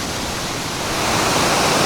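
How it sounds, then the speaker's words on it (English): A waterfall in Dalat roars as a steady broadband rush of falling water, close and loud, swelling slightly midway with no voices over it. "the waterfall's not bad, you can see that in the background"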